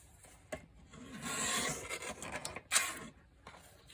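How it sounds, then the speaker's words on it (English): A paper trimmer slides and slices through paper for a card-making craft, giving a few close, quiet rasping strokes with small clicks of the blade. "does anybody else fight their trimmer like that?"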